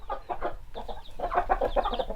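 Broody hens cluck close by in a series of short, throaty bursts, irregular at first and then quickening into a denser run of murmuring clucks.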